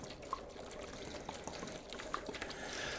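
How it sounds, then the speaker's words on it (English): Water pours from a saved plastic milk jug into a seed-starting tray of pre-moistened soil, a quiet, steady trickle and splash running alone for about three seconds. "Each tray gets about a half gallon of water."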